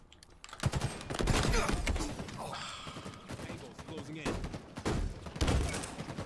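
Gunfire during a Team Slayer multiplayer match of Halo Infinite on the Argyle map, with sniper rifle shots and scattered bursts mixed with keyboard clicks, fairly quiet, with a player talking over it.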